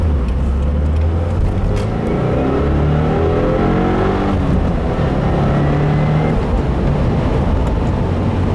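A 2015 Subaru WRX with a Maperformance stage 1 tune pulls hard through the gears, engine note rising and falling in loud, close, continuous acceleration runs with no talk over it.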